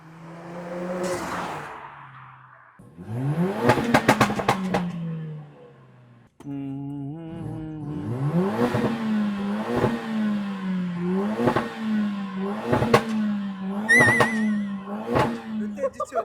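A tuned car on a second or third gear pull during a tuning trip in Mauritius revs repeatedly, its engine note climbing again and again through each gear in loud, close bursts.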